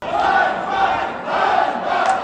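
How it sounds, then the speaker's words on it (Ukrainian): A crowd of deputies in the Ukrainian parliament, the Verkhovna Rada, chant and shout in unison in repeated swelling waves, loud and sustained across the whole stretch. "заблокували трибуну Верховної Ради із вигуками Ганьба"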